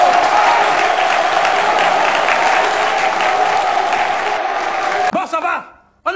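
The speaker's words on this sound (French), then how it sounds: "Tonnerre d'applaudissements pour notre coach." Loud, sustained applause and cheering from an audience in a hall, a dense roar for a football coach lasting about five seconds before cutting off into brief talk.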